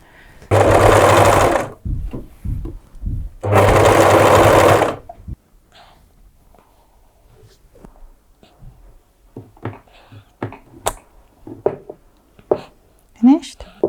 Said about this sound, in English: I use my overlocker to overlock the edges